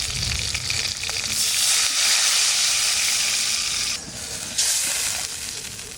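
Water poured into hot oil left from frying hilsa fish heads, giving a loud, continuous hissing sizzle with steam that briefly drops before surging again, with no one talking.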